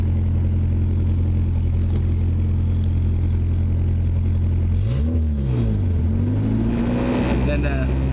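A Mazda 626 engine, recently converted from automatic to manual transmission, idles with a steady hum before the revs climb, dip and rise again in a loud, close-up series of accelerating pulls.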